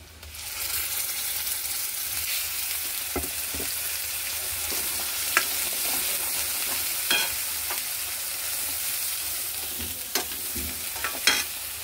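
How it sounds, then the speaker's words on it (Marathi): Ground masala paste fries in hot oil for an egg curry, giving a constant bright hiss with occasional light spatula taps and scrapes, close and without talk. "हा मसाला आहे ना वाटलेला, तो टाकून देऊया आपण"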